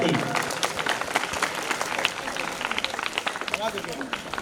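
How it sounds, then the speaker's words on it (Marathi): Audience at a school Independence Day event applauding a student, a dense sustained burst of clapping from a crowd, fairly loud throughout, with some voices mixed in. "जोरदार टाळ्या वाजवायच्या विद्यार्थिनीसाठी।"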